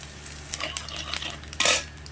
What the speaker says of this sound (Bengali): এবার কড়াইতে দেবো গোটা জিরে